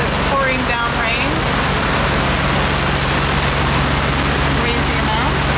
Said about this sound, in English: Can't see Montreal because it's pouring down rain.